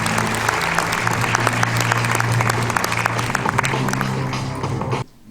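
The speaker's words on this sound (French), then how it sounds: "Avec vos applaudissements, Abel Jaffry" Audience applause at an international short film festival as actor Abel Jaffry is introduced: dense, loud clapping from a crowd with a low music bed underneath, cutting off abruptly near the end.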